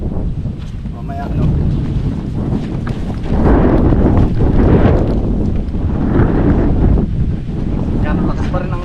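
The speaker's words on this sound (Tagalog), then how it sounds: "lakas pa rin ang hangin tapos ay may pabugso-bugso ulan" Strong wind with intermittent bursts of rain buffets an open farm, roaring loudly against the microphone in surging gusts that swell and ease throughout.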